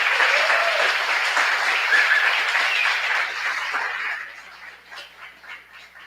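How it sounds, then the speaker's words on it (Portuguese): An audience claps in a steady burst of applause that fades out toward the end, leaving a few scattered claps. "queria uma salva de palmas especial"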